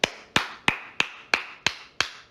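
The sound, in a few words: one person applauding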